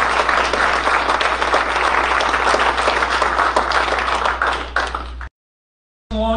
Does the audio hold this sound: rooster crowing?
no